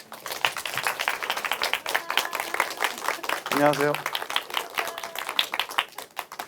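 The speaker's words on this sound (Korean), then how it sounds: "큰 박수로 맞이해 주세요." Audience clapping welcomes a music critic onto the stage at a Yangyang culture club lecture, a steady patter of hands running under a man's spoken greeting.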